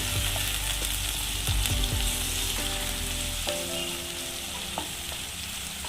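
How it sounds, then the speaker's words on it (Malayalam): Green chillies fry in a pan with a loud, steady close sizzle and crackle, with scraping stirs early on that ease toward the end. "പച്ചമുളക് അരിഞ്ഞ് വെച്ചിരിക്കുന്ന പച്ചമുളക് ഇതെല്ലാം ഒന്ന് നന്നായിട്ട് മൂത്ത് വരട്ടെ"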